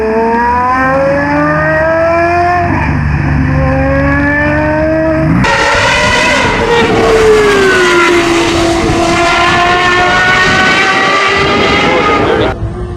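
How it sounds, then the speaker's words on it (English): A Gordon Murray T50 with its Cosworth-built V12 screams through rising, howling revs, the loud, shrill exhaust note climbing, shifting and surging again up close for the whole stretch. "At number 2, the Gordon Murray T50 V12. A Cosworth-built V12 that revs to 1200 RPM."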